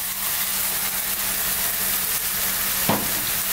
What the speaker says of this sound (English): our onions have changed colour, and we're gently cooking away